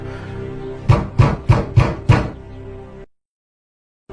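Five firm, evenly spaced knocks on a door, loud and close, followed by a low hum that cuts off into silence.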